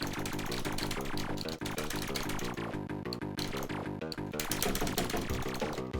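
Final boss in the Amiga game Lethal Zone firing a rapid, steady stream of shots over a loud, continuous chiptune-style game soundtrack.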